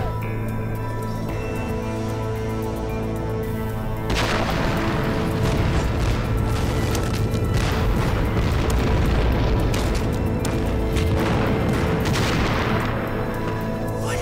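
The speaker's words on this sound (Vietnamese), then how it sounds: "Bọn Nhật tăng cường bắn pháo" Artillery shelling in a war film as Japanese forces step up their bombardment: a sustained barrage of loud, close booms and rumbling blasts begins a few seconds in and continues heavily over a low droning backdrop.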